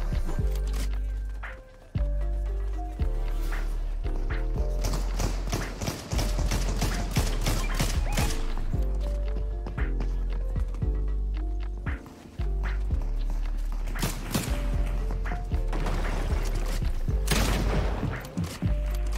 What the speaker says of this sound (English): Where are they shooting from?